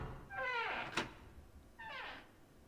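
A door opening in the Zero Escape 999 game: two short tonal creaking sweeps about a second apart, the first cut by a sharp thunk, fairly faint and heard alone.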